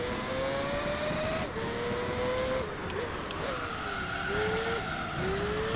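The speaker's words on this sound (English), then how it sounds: "Oh, the car's drifting." Race car drifting and skidding in Gran Turismo 3, a steady engine drone with gliding pitch shifts as the tyres squeal through a slide, heard alone at moderate volume.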